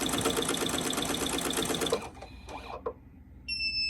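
Embroidery machine stitching a crew-neck sweatshirt, a loud rapid mechanical chatter of needle strokes that stops about halfway, followed by quieter clicks and a brief whirring tone near the end.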